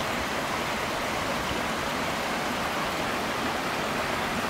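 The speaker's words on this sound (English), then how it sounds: "Got a nice little waterfall here." A small waterfall in the woods beside a cabin, a steady broadband rush of falling water filling the whole stretch, constant and fairly loud with no voices.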